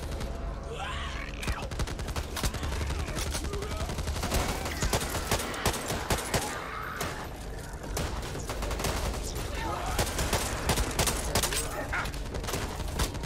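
Assault rifles fire in dense, overlapping bursts during a chaotic Back 4 Blood co-op battle against hordes of infected, with rapid loud cracks throughout and a few faint voices and groans in the mix.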